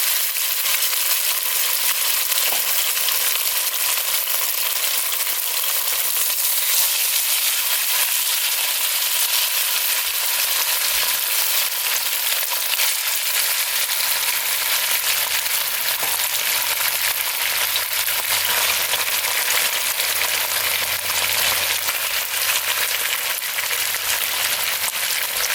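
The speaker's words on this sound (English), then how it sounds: "we're gonna hear my favorite sound when I cook some beef or steak" Beef for a beef and broccoli stir-fry sizzles and crackles in a hot pan, a loud, continuous frying hiss that stays dense and steady throughout, with no voices.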